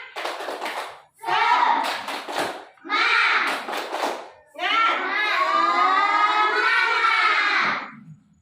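Children in a school classroom doing a rhythmic group clap in bursts, their hands and voices chanting together loudly and close, with short pauses between phrases and a longer sustained chant at the end.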